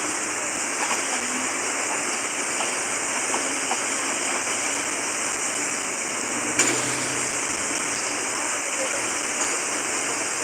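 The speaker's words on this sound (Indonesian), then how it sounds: "Air lumayan deras nih, hujan" Steady dense roar of heavy rain and rushing water on a mountain hiking trail, constant and loud throughout with a brief thump partway.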